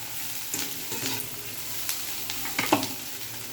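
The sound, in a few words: pasta with masala being stirred in a frying pan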